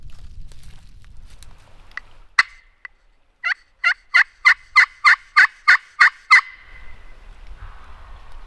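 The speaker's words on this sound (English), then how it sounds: "That could be them gobblers, so I bet you them gobblers are in the mix." A wild gobbler turkey calling out, a few isolated notes followed by a rapid series of about ten rattling gobble pulses, clear and fairly close in quiet open country.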